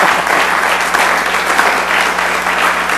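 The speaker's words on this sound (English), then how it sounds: "Maybe we could put our hands together and maybe give him some applause." Audience applause fills a council meeting chamber, a steady, dense wash of clapping hands holding at an even level for the whole stretch with no talk over it.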